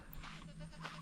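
A goat on a farm gives a faint, short bleat against quiet background noise.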